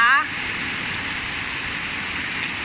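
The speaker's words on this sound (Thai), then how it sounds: "มีฝนตกมาอย่างนี้บ้าง ปีนี้ยังไม่มีตกหนัก ๆ แบบนี้เลยค่ะ" Heavy rain pours steadily outside a house as wind drives it inward, a dense even hiss throughout, with a brief voice at the very start.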